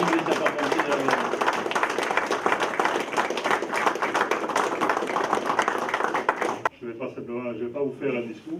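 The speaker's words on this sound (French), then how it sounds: "Merci de les applaudir très chaleureusement" Warm applause from the audience at a Sainte-Barbe firefighters' ceremony in Séverac d'Aveyron, a dense sustained clapping for about six and a half seconds that cuts off abruptly, after which someone speaks.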